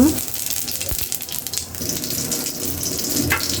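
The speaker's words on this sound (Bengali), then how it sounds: "তেলের মধ্যে জিরাটা দিয়ে দেব" Cumin seeds hit hot oil and sizzle steadily, a continuous crackling hiss up close that keeps going throughout.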